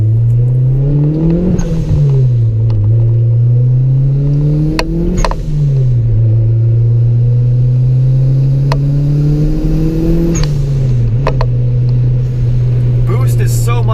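Loud turbocharged Honda Civic EG engine from inside a cabin stripped of sound deadening, repeatedly revving up and dropping back as gears shift, a droning whine rising with each pull.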